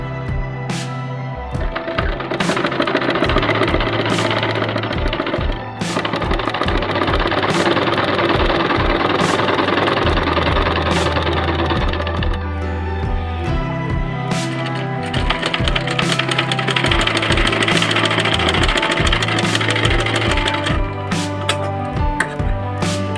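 A sewing machine stitches the cuff hem of a designer sleeve, running as a loud, close, continuous mechanical whir with a rapid needle rhythm that briefly stops and restarts.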